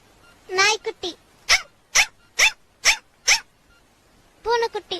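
A puppy's barking, probably imitated by a voice in a comedy sketch: a yelping cry, then five short, evenly spaced barks and a final whining yelp, all close and clear.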